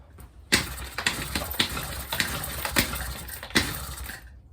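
A Honda Express NC50 50cc moped engine cranking and sputtering, repeated rhythmic turning bursts with rough coughs as it struggles to catch, close and fairly loud.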